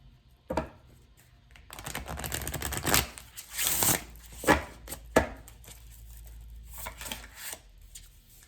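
Tarot cards being shuffled and drawn by hand, a run of close, crisp riffling and slapping card sounds with sharp flicks and soft rustles in between, with no talk over them.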